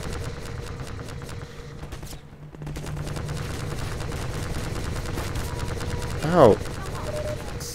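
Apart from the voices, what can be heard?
gunfire in the video game Half-Life 2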